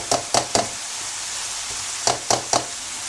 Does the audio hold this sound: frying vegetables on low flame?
yes